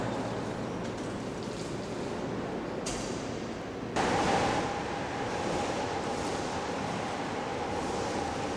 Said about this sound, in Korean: 이번에는 파도 생성기가 발생할 수 있는 가장 높은 파도를 만들어 보기로 했다.